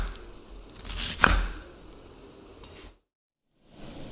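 A knife slices through a pineapple into thin triangular pieces, giving one sharp close cut with a brief tearing crunch, then quieter scraping before a short silence.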